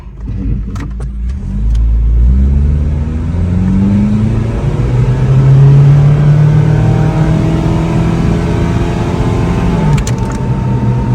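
A Geo Tracker in four-wheel low pulls away and climbs through its gears, the engine drone rising in pitch, dropping at a shift and rising again, loud and close with no talk over it.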